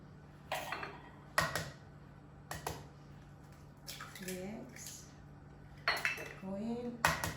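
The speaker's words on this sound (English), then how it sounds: "And then we're gonna add our 3 eggs" Eggs cracked one by one and dropped into a bowl of cake batter with olive oil and yogurt for a Greek apple cake, giving a few sharp shell taps and clinks against the bowl with soft wet plops between them.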